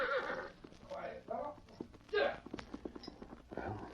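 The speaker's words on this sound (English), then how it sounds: "Now him go to corral for horse." A horse at a corral in a Western radio drama gives a neigh and clip-clopping hooves, medium close, mixed with scattered speech and rustling effects.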